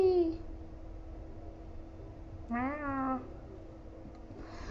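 A cat meows twice, a short call at the start and a longer rising-and-falling meow midway, fairly close against a quiet background.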